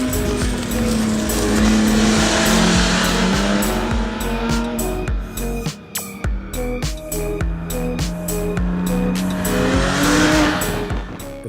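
A Porsche 996 GT3 with a 4.2-litre Manthey Racing engine drives hard, its loud engine note rising and falling through gear changes, with tire squeal and a brief lift-off near the middle.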